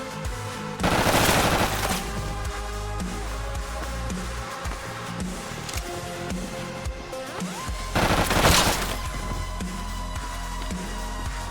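Gunfire in the video game Intravenous 2, with two loud bursts of rapid shots and a steady crackle of firing in between, dense and close throughout.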